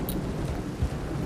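Steady rain falls with a low, rolling rumble of thunder underneath, a brief deeper swell of thunder breaking through midway.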